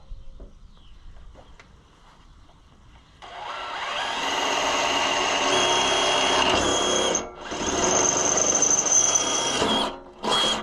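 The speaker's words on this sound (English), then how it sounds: "We're gonna drill a couple holes." A power drill whirs up to speed and bores holes steadily for several seconds while a battery tray is installed on an Oliver Fleetline tractor, pausing briefly before a final short burst; close and loud, no voices.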